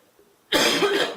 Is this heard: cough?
yes